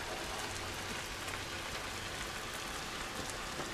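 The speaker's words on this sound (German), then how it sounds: "Dieser Regen ist nicht gut für uns." Dense, steady rain in the video game The Last of Us pours down, an unbroken hiss of countless drops striking surfaces with no pauses or voices.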